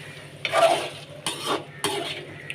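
A spoon scrapes and stirs through a pan of large prawns in gravy with added water, making repeated wet scraping strokes over a steady low hum.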